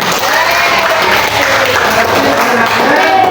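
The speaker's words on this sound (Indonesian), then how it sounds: "Ya, tepuk tangan untuk semuanya." Steady applause from a class of students fills the whole stretch, dense clapping at even loudness with a faint murmur of voices underneath.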